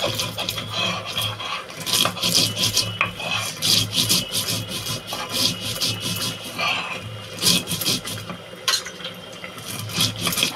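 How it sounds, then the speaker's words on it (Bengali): Chilli, garlic and mustard seeds are ground into a paste for an eggplant dish, a steady run of rhythmic rubbing and gritty scraping strokes repeating close up with no talk. "আমি এই বেগুনটা করার জন্য একটুখানি লঙ্কা, রসুন আর এই যে সর্ষে, এটা আমি বেটে নেব"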